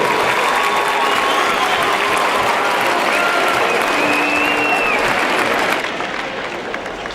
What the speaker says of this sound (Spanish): Un fortísimo aplauso para esta terceira rondalla clasificada nesta tarde de hoxe.